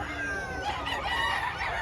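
Chickens and roosters at a crowded poultry market crow and cluck over one another, a loud continuous din with overlapping calls and no clear talk.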